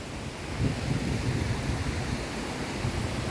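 A waterfall in the Bréaulte mountain range of Switzerland gives a steady, broad rushing roar. It stays even and fairly loud throughout, with no voices.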